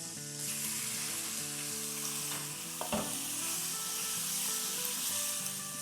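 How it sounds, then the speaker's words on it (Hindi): Chicken strips for chicken jalfrezi sizzle in a pan over medium-high heat, a steady bright hiss with a brief scrape of stirring midway, no voices. "बस चिकन को हम इतना फ्राई करेंगे, सॉटे करेंगे जब तक कि इसका थोड़ा सा कलर चेंज ना हो जाए।"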